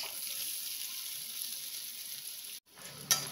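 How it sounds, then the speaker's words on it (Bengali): Bitter gourd slices fry with turmeric in a pan, giving a steady, faint hiss of sizzling oil that cuts out briefly near the end before resuming. "এ দেখুন উচ্ছেগুলো ভাজা ভাজা হয়ে গেছে"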